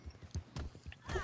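Rhythmic video game horse hoof clip-clops, fairly close, with a brief louder burst at the end.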